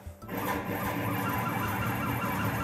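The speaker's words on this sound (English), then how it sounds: "Now we're gonna jog back to the left." A machine table is jogged back to the left under power. After a brief quiet start, a steady mechanical whine and grinding hum with faint tonal overtones sets in and holds evenly, close and moderately loud, with no voices.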